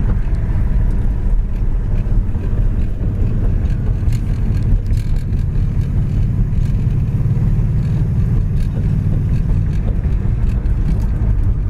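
A 1966 Ford Fairlane Ranchero cruising down the road at low RPM, a loud steady engine and road rumble heard from inside the cab with wind buffeting throughout.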